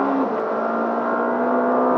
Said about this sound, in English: It's got a familiar engine note